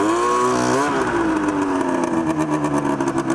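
A 100HP go-kart engine bogs out, its loud nearby pitch sagging and wavering before settling into an uneven, struggling drone.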